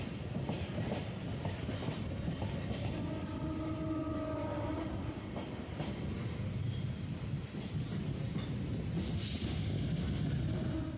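A Majerhat–Barasat local train on a single-line track runs steadily close by, a constant loud rumble of wheels and carriages with brief squealing tones and a rising hiss near the end.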